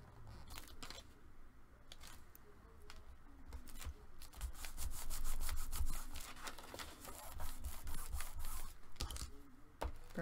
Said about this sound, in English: Burnish it on